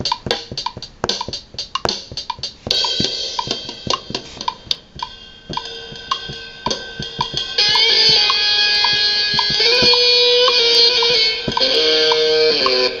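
Guitar recorded in the GarageBand iPad app, a run of plucked notes and strummed chords that starts sparse and grows into a dense, sustained layered passage toward the end, with no talking.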